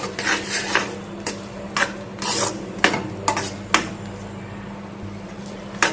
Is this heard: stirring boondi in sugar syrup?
yes